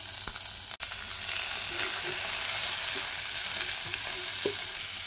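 Garlic, ginger, onions, chillies and capsicum fry in hot oil with a steady, dense sizzle, broken by a sharp clack near the start and a few soft stirring scrapes, with no voices.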